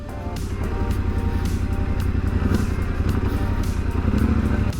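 Motorcycle idling and creeping slowly in a tight first-gear circle, steady low engine rumble with slight throttle and clutch variations, close and continuous with no talk.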